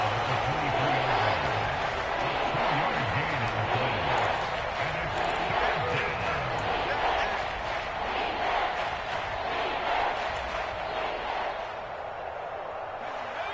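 A stadium crowd cheers in a football video game broadcast at a big third down, a continuous roar of many voices swelling at moments, with a commentator's voice mixed in.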